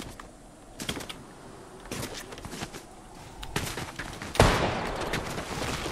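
Sporadic gunfire from distant players in the video game Fortnite during an OG season squads match, cracking in short irregular bursts over a steady background, with one louder shot near the end.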